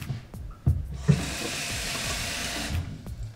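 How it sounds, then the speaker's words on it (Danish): Water runs from a tap into a cooking pot on a kitchen counter, a soft steady rushing flow after a couple of light clunks, continuing for a few seconds and then tapering off. "kommer lidt vand i, ikke alt for meget vand."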